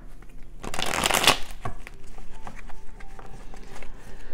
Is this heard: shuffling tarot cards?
yes